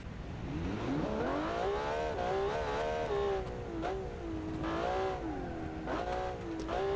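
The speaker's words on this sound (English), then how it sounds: "let's listen to the car first" Car engine in the BeamNG driving game revving up and down through several rising and falling sweeps, a strong, buzzy, continuous tone at steady loudness with no voices.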